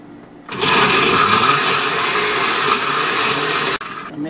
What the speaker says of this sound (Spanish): Y ahora licuar.